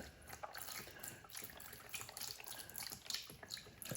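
Broth pours steadily into a pot of chicken, corn and cilantro lime, a continuous close splashing gurgle lasting several seconds with no talking.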